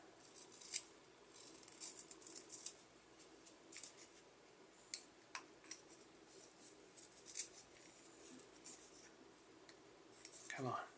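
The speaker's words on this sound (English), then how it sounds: "Let me sharpen my pencil here." Pencil being sharpened in a small pencil sharpener at a desk, heard as quiet, close scraping and grinding with short crisp bursts and little clicks across the stretch, with no talk.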